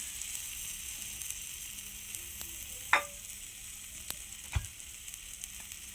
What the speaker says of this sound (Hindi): इस तरह से हम पराठे को अब पलट लेते हैं